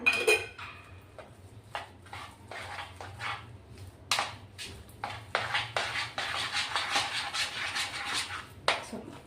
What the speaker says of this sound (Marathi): आता हे चांगलं आपण मिक्स करून घेऊ